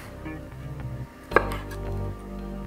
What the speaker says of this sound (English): So I've just sliced a chilli in half.